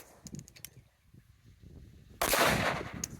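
A single sharp, loud gunshot from a Tisas 5.7 pistol fired at an outdoor range backstop, cracking out after a few seconds of quiet handling noise and decaying over about a second.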